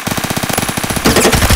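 Suppressed gunfire in a first-person shooter game: a rapid automatic burst of muffled shots in even rhythm, followed by a louder, noisier stretch of game sound.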